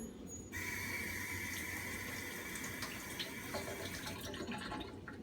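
Running tap water pours steadily over a microscope slide being rinsed after blood-film staining in a pathology lab, a continuous hiss and splash from start to finish with a brief change in flow partway through.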